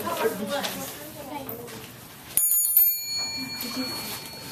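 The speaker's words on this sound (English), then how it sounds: "You gotta ring the bell for me." Voices chatter in a classroom, then a bright bell rings once with a sharp strike and a ringing tone that fades under continued talk.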